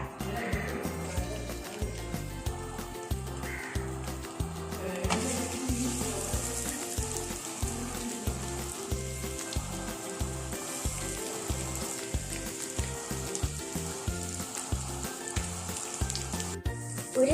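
Egg-coated buns fry in a hot pan, giving a steady close sizzle throughout that is overlaid with a regular rhythmic tapping pulse.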